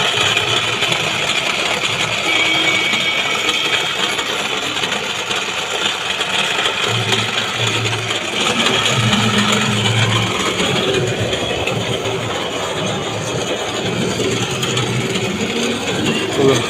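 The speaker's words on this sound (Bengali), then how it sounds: "পেনিয়ামে আওয়াজ কীরকম হচ্ছে শুনুন।" The pinion gears of a differential turn with one wheel locked. Close and loud, they make a continuous mechanical whirring and ratcheting, with low clunks scattered through it.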